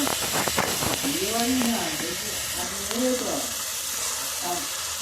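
Sliced onions frying with salt in a pan during village-style cooking give off a steady, close sizzling hiss that continues under a person talking.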